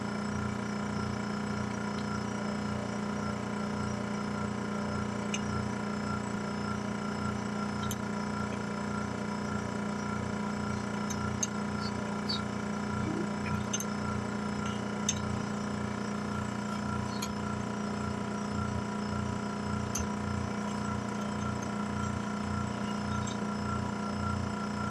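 A vacuum pump holding a wing resin layup under vacuum runs steadily with a constant mechanical drone and a fast regular pulsing, with occasional faint clicks over the top.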